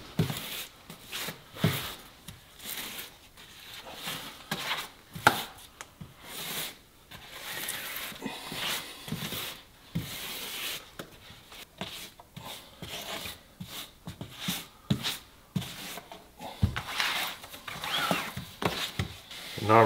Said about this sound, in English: Now we're just gonna come through and give her a good little scrape.